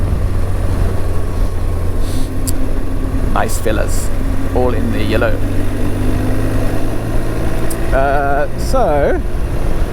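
A motorcycle engine hums steadily under light throttle while riding, a close, constant mid-pitched drone beneath a rider talking.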